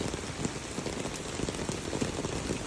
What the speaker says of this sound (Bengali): কিন্তু আজকে সকাল থেকেই তো বৃষ্টি বৃষ্টি ছিল, সবাই জানে।